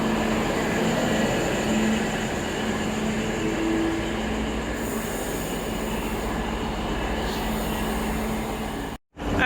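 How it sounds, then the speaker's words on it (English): A passenger train at Aberdeen station in New South Wales rumbles steadily nearby, wheels squealing faintly on the rails, ending in a brief dropout. "The final northbound service to Scone is now departing J5."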